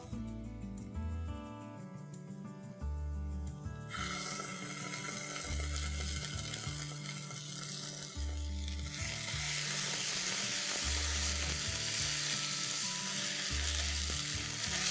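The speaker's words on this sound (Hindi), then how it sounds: "अदरक लहसुन की पेस्ट को 2-3 मिनट के लिए फ्राई कर लेंगे, ताकि उसका कच्चापन चला जाए" Onions and ginger-garlic paste fry in a pan, giving a continuous crackling sizzle that grows louder and denser partway through, with soft background music and no talk.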